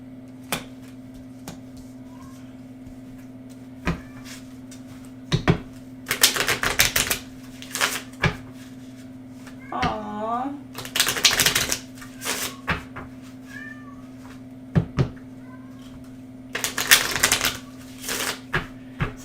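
Tarot cards being shuffled by hand in bursts of riffling and flicking, close to the microphone, with scattered clicks and taps between bursts and a steady low hum underneath.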